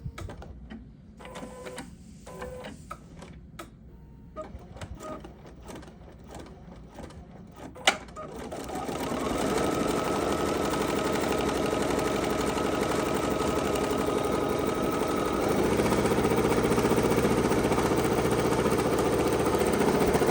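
After some quiet handling clicks, an embroidery machine starts up and stitches a make-up bag in the hoop, its rapid, even mechanical whirring running loud and steady to the end.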